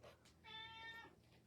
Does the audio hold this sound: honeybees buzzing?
no